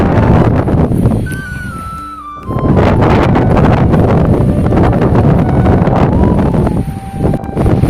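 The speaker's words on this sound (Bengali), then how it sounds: "আজকে সকালটা শুরু হয়েছে ঝোড়ো হাওয়া দিয়ে" Strong stormy wind gusting across a village in the morning, buffeting the microphone in a steady loud roar with a brief lull midway, no voices.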